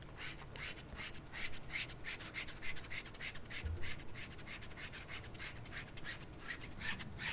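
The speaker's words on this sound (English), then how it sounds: "then I can come along with a palette knife and start scraping off the majority of the" A palette knife scrapes softened wax off a Moroccan portrait painting under conservation, giving a steady series of close, dry rasping strokes in an even repeating rhythm with no talk.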